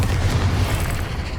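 Bombarda spell from Hogwarts Legacy going off in a cavern, a loud, deep booming blast with sustained low rumble across the whole moment, no talking.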